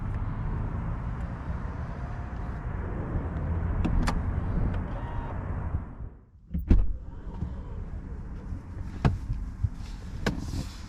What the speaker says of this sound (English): you can have it close the trunk and lock the car at the same time